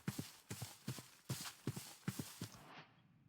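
Horse hooves clip-clopping in Minecraft, a steady walking rhythm of paired hoof strikes repeating about eight times over three seconds, close and clear, then cutting off abruptly.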